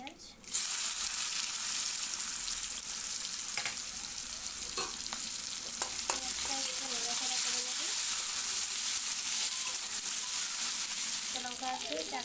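Chopped onion goes into hot oil with cloves, cardamom and cinnamon, bursting into a loud, steady sizzle and crackle that continues throughout, with faint clinks of stirring.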